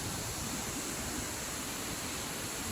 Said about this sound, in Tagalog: Ito yung waterfalls.